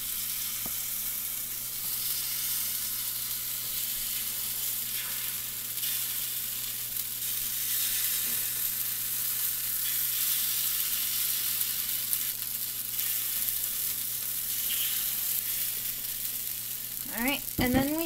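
Takoyaki batter sizzles steadily in a hot pan, a continuous close frying hiss throughout, with a low hum underneath and a few clicks of utensils near the end.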